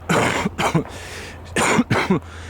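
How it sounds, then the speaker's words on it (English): A smoker coughs and clears their throat in a few short, rough bursts, close by, with brief pauses between. "Excuse me, smoker's cough."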